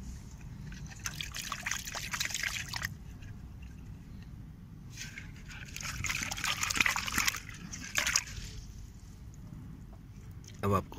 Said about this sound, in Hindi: एक बार मैं इसे पानी में साफ कर लूं